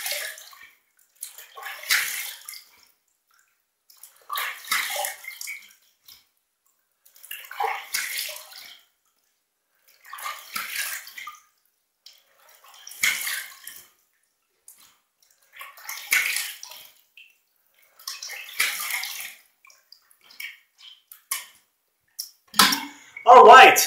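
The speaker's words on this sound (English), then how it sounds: "I'm going to do a final two rinses, one warm water, one cold water from the tap" Tap water splashes in short repeated bursts, about eight evenly spaced rinses, as a face is rinsed with warm then cold water after a budget shave, close and alone between quiet pauses.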